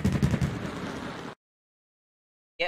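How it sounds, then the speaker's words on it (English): A firework bursts in the video game Super Mario Maker 2, a crackling, rumbling blast that cuts to dead silence before a brighter burst returns at the very end. "Another firework."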